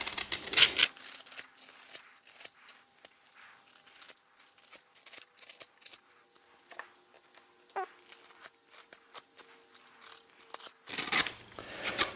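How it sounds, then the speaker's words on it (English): Scissors snip repeatedly through the trimmed edges of a leather knife sheath, with short sharp cuts and rasping rubs spaced irregularly, close and fairly quiet, louder bursts at the start and end. "now it's just time to, well, trim off the edges and then,"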